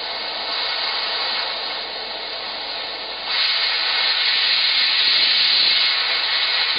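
A Bernzomatic OX2550 oxygen and MAPP gas torch gives off a steady, loud, close roaring hiss that jumps a step louder partway through as the flame settles at the nozzle, then holds even with no talking.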